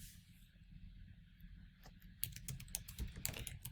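Computer keyboard typing, close and fairly quiet: soft key presses at first, then a quicker run of crisp clicking keystrokes through the second half.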